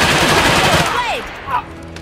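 Bursts of video-game gunfire from Iron Harvest, a dense crackle of shots for over a second that thins out, with a short swooping whine and a brief later burst over game noise.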